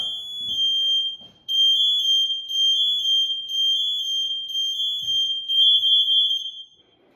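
A firefighter's breathing apparatus pack alarm, manually activated during an equipment check, sounds as a loud, piercing tone in repeated long pulses with short gaps before cutting off, with faint handling noises beneath.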